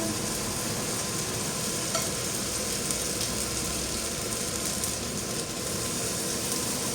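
Potato pancakes sizzle and crackle in hot oil, a dense continuous frying hiss, close and fairly loud, with no voices.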